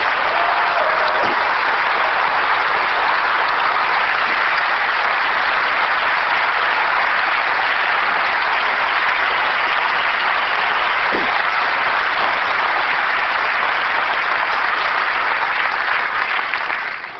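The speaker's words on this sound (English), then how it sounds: "I would like to give a round of applause to all of our software engineers in the audience" Sustained applause from a large audience at a 1999 event, honouring software engineers: dense, steady clapping that fills the room at constant loudness for about seventeen seconds, with no voices over it.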